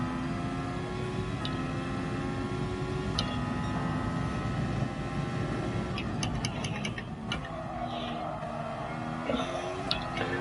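A racing car engine in the video game GT Sport: a steady drone with layered harmonic tones runs throughout, pitch rising and falling with speed, while short clicking ticks cut through in places.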